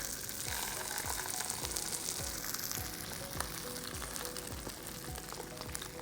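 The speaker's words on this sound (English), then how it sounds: "my pan is already heated up, so I'm going to put in the salmon" Stuffed salmon sizzles and fries in a preheated pan, a steady loud crackle with frequent sharp pops and spits throughout, no voices over it.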